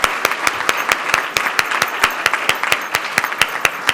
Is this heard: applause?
yes